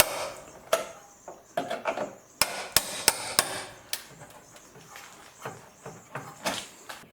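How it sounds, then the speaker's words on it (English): Sharp metallic hammer strikes on a chisel working apart a rocker panel on a Mercury Sable, irregular and close, some in quick bursts, with scraping between blows. "we got our chisel and hammer and starting to work it apart some."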